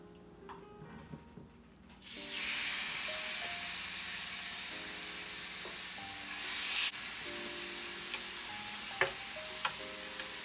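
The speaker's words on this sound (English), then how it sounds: "the grill is nice and hot now, and I'm going to be putting it down on the grill, and we're going to be cooking it" Seasoned Asian pork and mushrooms hitting a hot grill, a bright, steady sizzle that swells suddenly and holds for several seconds, with faint clicks and tones in the background.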